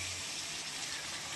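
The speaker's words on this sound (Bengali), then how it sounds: "এবার জল দিয়ে দিচ্ছি।" Water poured into a pan of cooked-down curry masala, a short, steady, soft gushing pour heard close and alone.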